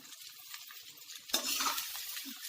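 Cut lady's finger (okra) hits a hot pan and starts frying, a sharp burst of sizzle partway through followed by steady crackling and stirring, loud and close with no voices.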